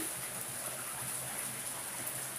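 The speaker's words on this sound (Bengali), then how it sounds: "বাইরে বৃষ্টি করতেছে" Rain falls steadily outside while cooking goes on indoors, a soft, even hiss with no breaks, faint and constant throughout.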